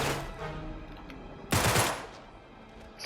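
Bursts of gunfire in the video game Uncharted 3 on Brutal difficulty, heard as sustained dense rattling under game noise, with a louder close volley near the middle.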